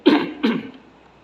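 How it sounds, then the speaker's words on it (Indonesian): A man demonstrates clearing his throat: two short, rough bursts close to the microphone, the second following about half a second after the first, then quiet. "Jadi dibuatlah berdehem-dehem."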